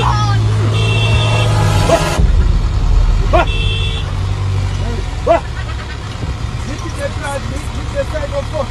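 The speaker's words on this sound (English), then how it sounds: "The driver keeps backing up as fast as he can to avoid the rhino ramming" Safari vehicle engine revving steadily as it reverses fast away from a charging rhino in the African bush, a continuous loud motor drone with animal-like calls and voices over it.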